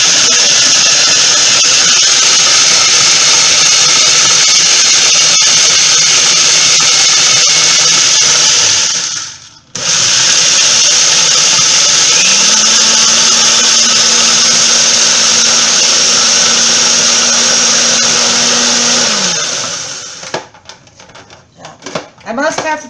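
A food processor grinds Cheerios into a gluten-free cheesecake crust, giving a loud, steady whirring roar that cuts out briefly and restarts, then stops, leaving a few rattling taps.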